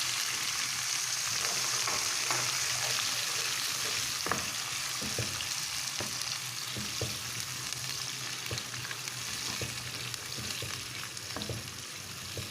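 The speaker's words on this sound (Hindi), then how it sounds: "इसमें अब प्याज डालेंगे" Onions frying in hot oil in a pan for a spiced okra dish, a continuous close sizzle with occasional scraping and stirring clicks, steady throughout with no voices.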